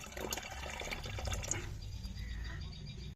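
Hot water is poured into a dose of liquid cold and cough medicine for sick poultry on a small farm, a close, steady trickling pour lasting a few seconds that thins out toward the end, with no voices.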